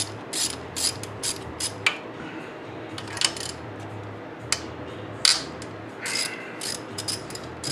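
A ratchet wrench works on tightly torqued bolts of a Geo engine, with bursts of quick clicking pawl ratchets and sharp metallic clanks in irregular rhythm, close and clear without speech.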